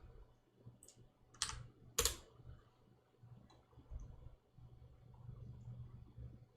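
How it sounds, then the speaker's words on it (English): Typing on a computer keyboard, a few quick bursts of clicking keys close by and fairly quiet, with pauses between them. "I start typing the length"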